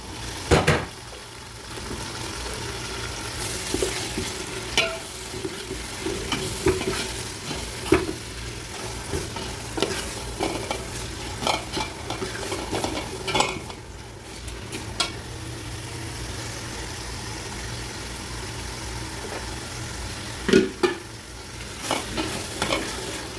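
Onions and tomatoes frying in a pan for biryani, stirred with steady scraping and clinks of a utensil against the pan over a continuous sizzle, close and fairly loud throughout with no talking.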